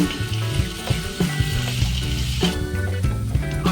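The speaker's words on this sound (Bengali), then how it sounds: "আলুগুলো আমি হালকা ফ্রাই করে নিলাম" Small cut potato pieces fry in hot oil, a loud, continuous crackling sizzle with occasional bursts, and music plays in the background.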